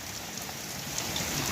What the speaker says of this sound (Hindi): अचानक तूफानी बारिश लगी हुई है